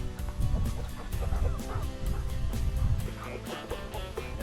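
Hens and a rooster cluck and murmur together at a farm coop during morning chores, a busy, close, continuous chatter of fowl with no speech.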